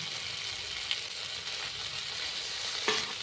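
Spices sizzling and frying in oil in a pan as roasted kasuri methi is added, a steady close hiss with a couple of brief clinks or stirring knocks.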